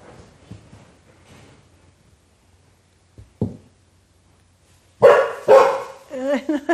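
Indoor dogs burst into a few loud, close barks and yips after a quiet stretch with faint low voices and a brief knock, then a string of whining, wavering yelps at the end.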